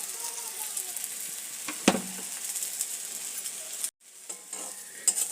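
Beans frying in a pan with ground fried neem leaves being added, giving a steady soft sizzle with one sharp clatter near the start and a brief silent gap before the sizzling resumes.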